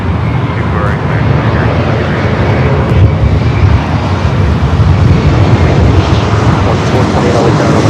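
A fixed-wing airliner on the runway at Los Angeles International Airport gives a loud, steady engine roar and rumble throughout, with wind noise, while radio or voice talk runs underneath.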